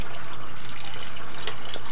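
Water drains from a home aquarium during a partial water change, with the rocks being cleaned at the same time. A steady, close trickling and gushing runs throughout, with no voices.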